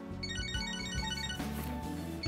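A phone rings in Catherine: Full Body with a bright, melodic electronic ringtone, a repeating tonal phrase that plays steadily and alone at moderate volume.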